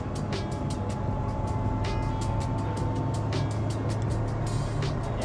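A Mitsubishi Evo 6.5 Tommi Makinen Edition with a five-speed gearbox drives in stock form, its engine giving a steady, close, loud drone from inside the car with a faint ticking rhythm throughout.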